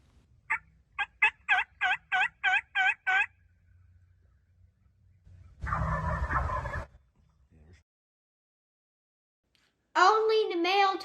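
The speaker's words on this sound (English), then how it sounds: "We could hear their gobbles." Wild turkeys gobble at dawn, with a fast series of about eight sharp gobbles near the start, then a longer burst mid-clip and another rattling gobble at the end, separated by quiet gaps.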